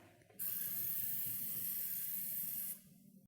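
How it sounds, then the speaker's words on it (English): A Chef'n oil mister sprays one sustained hissing burst of just over two seconds, sharp onset and abrupt stop, close but fairly quiet with a faint mechanical click before it. "Then spray."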